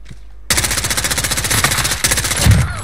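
Automatic gunfire in Call of Duty Modern Warfare training, a loud, close machine-gun burst of rapid regular shots that runs almost without a break for over two seconds.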